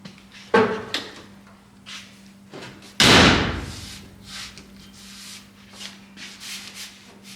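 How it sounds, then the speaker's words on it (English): A loose vehicle door is swung shut during panel alignment, landing as one loud, close slam with a brief rattle, after lighter clunks and handling knocks before it and faint rubbing and shuffling afterward. "Let's shut the door and see what it's going to take to,"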